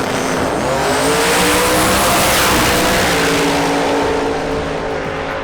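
A drag race car engine screams at full throttle, roaring loudly and continuously as it accelerates hard down the drag strip, close by.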